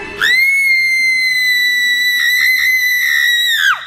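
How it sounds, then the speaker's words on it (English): A woman's single piercing, high-pitched scream holds for several seconds, wavering briefly before breaking off, loud and close. "she gave the most horrific, blood-curdling shriek I ever heard"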